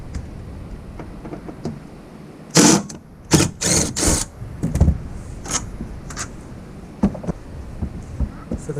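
Bolts being loosened on a Rough Country MOLLE panel fitted to a third-generation Toyota Tacoma give a few loud, close bursts of ratcheting clicks around the middle of the stretch, followed by lighter scattered tool clinks with no one talking.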